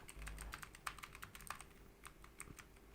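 Quiet, uneven clicking of keys on a computer keyboard while typing a search into Google, fast irregular taps with brief pauses, no voices.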